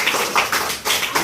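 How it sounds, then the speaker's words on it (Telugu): Children in a classroom clap their hands in a quick, irregular patter of close, bright claps, with no talk over it. "క్లాప్స్ చూడండి."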